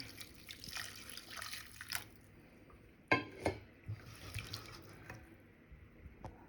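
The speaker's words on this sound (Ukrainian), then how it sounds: "Ставимо на огонь і заливаємо зарані підготованим бульйоном" Prepared broth poured into a pot over diced potatoes and carrots, a soft close stream of liquid with a few splashes, clinks and drips, no voices.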